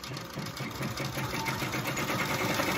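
Machine embroidery stitching a 3D ear onto a shirt: a steady, fast mechanical needle chatter with a humming motor, close and continuous throughout with no talking.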